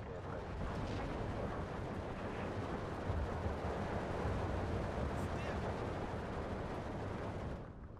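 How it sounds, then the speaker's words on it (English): A rocket strike in the war game Steel Division 2 sounds as a dense, sustained roar of rumbling blasts lasting several seconds, loud and continuous before cutting off near the end. "That's rocket strike though."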